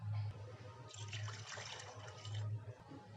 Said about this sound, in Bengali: এখন এই আলুগুলোকে জল দিয়ে পরিষ্কার করে ধুয়ে নিতে হবে।